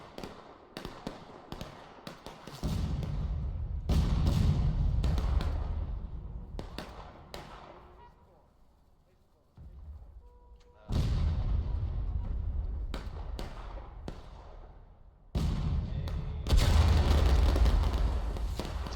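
Musket volleys and artillery in a 400-player War of Rights battle, several bursts of sharp cracks and booming shots in clusters, some near and loud, others fading into distant rumbling, with a quiet lull in the middle.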